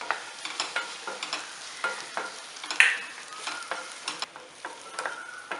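Chopped citron (narthangai) with green chili and ginger is sautéed in a pan: a light sizzle runs under repeated, rhythmic scrapes and stirs of a spoon, close and clear, with no talking.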